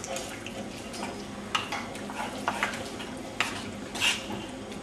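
Malaysian curry with spices being stirred in a pot, soft sizzling under repeated scrapes and clinks of a spoon against the pot, several sharper knocks and a brief louder scrape near the end, close by.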